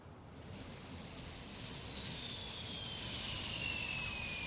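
A turboprop airplane in the Airport CEO video game roars with a steady broadband drone and a slowly falling high whine, loud and continuous with no talk.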